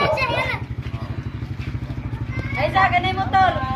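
A motorcycle engine drones nearby in a steady pulsing rhythm throughout, while children chatter and call out over it.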